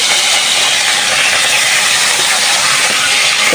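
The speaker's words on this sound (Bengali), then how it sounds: "কড়াই গরম হয়ে গেছে তো কাতলা মাছের এটা বসায় দিই" Katla fish pieces sizzling in hot oil in a wok, a loud, continuous, close-up frying hiss that holds steady from start to finish.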